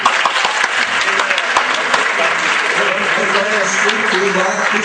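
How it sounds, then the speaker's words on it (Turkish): An audience at a Quran recitation competition applauds loudly and continuously, a dense crowd clapping close by for the whole stretch. "Bir daha alkışlayın."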